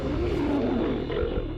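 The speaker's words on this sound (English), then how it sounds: "The mega lion." A prehistoric mega lion, the largest cat that ever lived, lets out a deep, loud, sustained roar lasting well over a second, rumbling low and close with no talk over it.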